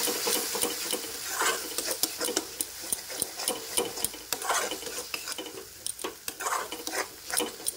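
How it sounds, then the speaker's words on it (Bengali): Spice paste being stirred in a frying pan for a Bengali begun bahar aubergine dish, with a steady run of close, sharp scraping strokes over a soft background sizzle, no voices. "মশলাটা দিয়ে করে খুব করে নাড়াতে হবে"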